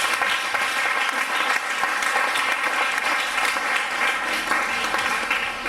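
A church congregation applauding loudly and continuously in a dense, sustained wash of clapping that fills the room without pause.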